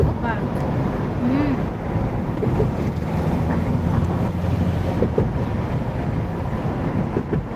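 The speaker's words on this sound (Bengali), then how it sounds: "ঢেউ আবার আবার এই পাশে আর একটা ঢেউ" Sea waves at Patenga beach roll in as a low, continuous rumble mixed with gusty wind buffeting the microphone, while people talk nearby.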